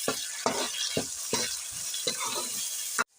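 Onions and tomatoes fry and sizzle in a pan, with a steady hiss broken by regular stirring strokes about twice a second, close and fairly loud, ending abruptly.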